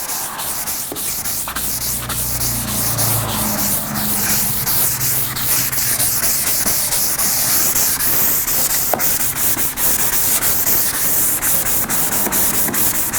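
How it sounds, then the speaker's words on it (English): A fine 3M sanding sponge rubs back and forth over a smooth surface in quick, continuous strokes, a close, soft scratchy hiss with small knocks and no talking. "was just a real quick sanding with the sanding sponge"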